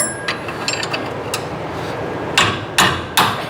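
Torque wrench clicking as bolts are tightened on the rear end of a 1958 car: a few faint taps early on, then three sharp, close clicks spaced evenly near the end, with no talking.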